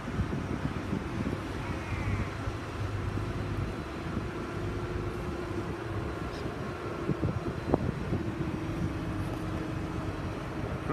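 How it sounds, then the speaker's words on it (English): Strong wind gusts roar during the felling of a large tree. The low, steady rumble of wind buffeting the microphone runs throughout, with no voices. "60k gusts, winds."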